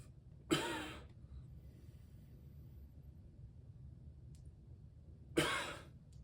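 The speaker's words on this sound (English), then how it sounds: "and cough." Two separate coughs, a few seconds apart, each a sharp burst with a short breathy tail, in an otherwise quiet room, from a person with a rib injury bracing with a pillow.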